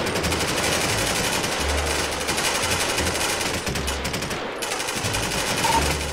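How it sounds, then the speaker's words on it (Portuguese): Sustained automatic gunfire from soldiers in the video game GTA 5, a loud, dense stream of rapid rattling shots filling the whole stretch with barely a pause. "Senhores, apontar armamento, fogo à vontade"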